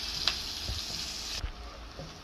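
Onions and curry sizzle quietly in a hot pan, a soft hiss with a few light clinks and scrapes of a utensil stirring; the hiss drops off partway through.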